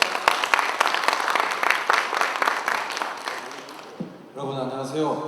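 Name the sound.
audience applause welcoming a speaker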